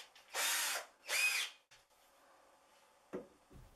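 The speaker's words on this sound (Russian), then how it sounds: "Обязательно сверлю тонкие направляющие отверстия" A power drill boring thin pilot holes while fixing a wardrobe upright, two short whirring bursts in quick succession, then quiet with a light knock near the end.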